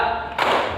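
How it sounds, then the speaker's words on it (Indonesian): A single burst of hand claps from a group in a classroom concentration clapping game, a sudden sharp clatter after a brief quieter stretch, close and loud. "Tepuk 1 kali"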